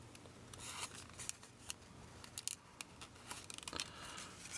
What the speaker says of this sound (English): just cut a little piece of the straw off and put that over the end of the brads